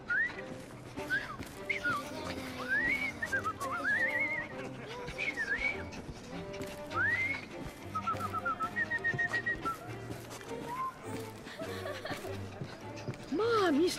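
A woman whistles short, lilting melodic phrases in the video game Assassin's Creed Syndicate, the bright tones rising and falling over a steady, busy background of game ambience.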